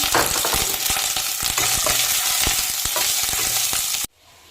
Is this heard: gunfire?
no